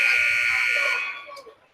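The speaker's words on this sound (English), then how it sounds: "There's the buzzer." Timeout buzzer sounding in a school gym during a high school basketball game, a loud sustained electronic tone holding for about a second before cutting off, with a commentator's voice and crowd murmur underneath.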